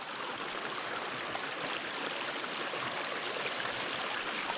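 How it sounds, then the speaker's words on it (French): A rushing mountain stream on Réunion island flows steadily and fairly softly, a continuous broadband wash of water with no distinct splashes or voices. "Là on fait que ça, traverser des cours d'eau."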